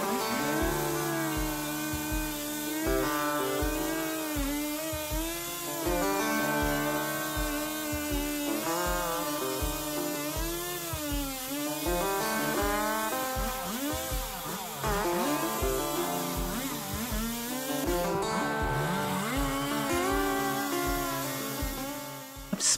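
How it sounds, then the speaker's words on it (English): Chainsaw cutting out an old beam during repair of a 300-year-old farm roof, the engine running steadily loud and close with rhythmic pulsing and rising, falling revs throughout. "what they're using there is a chainsaw to cut out the first beam that needs removing"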